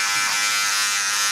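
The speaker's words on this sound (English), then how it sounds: "I'm going with my clipper all the way closed." A cordless electric hair clipper with its blade fully closed hums in a steady, close, bright buzz while it tapers the back of a neck.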